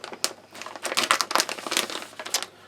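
Crinkly plastic packaging of a British Army single meal field ration pack being cut open across the back, a dense run of close crackling and crumpling bursts with no talk.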